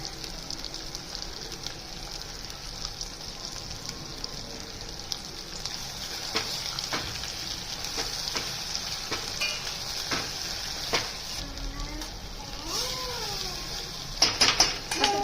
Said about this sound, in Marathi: आता आपण राहिलेला मसाला त्यालाच परतून घेऊ